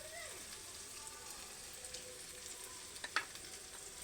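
Onion and tomato fry in a pan with a soft, steady sizzle, then a few louder pops and crackles near the end, while a voice talks faintly in the background.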